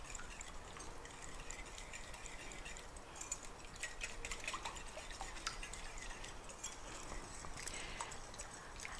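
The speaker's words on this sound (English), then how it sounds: "So whisk this up so you get all nice incorporated." A whisk beats a chicken and dumplings mixture in a bowl, giving quiet, steady rapid clicks and swishes with no talking.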